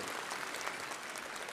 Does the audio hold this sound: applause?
yes